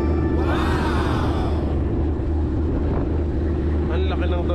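A boat's engine drones loud and steady at close range, a constant low rumble filling the whole clip while people talk over it.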